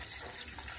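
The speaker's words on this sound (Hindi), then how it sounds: "अब इसमें हम पानी डाल देंगे।" Water pouring into a pot of yakhni with oil, a steady close splashing trickle lasting under a second, fairly quiet with no voices.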